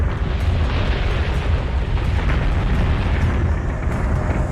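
Spaceship weapons firing and exploding in the space combat game Battlestar Galactica Deadlock, a loud continuous rumbling roar of blasts and booms with heavy low-end, sustained throughout without speech.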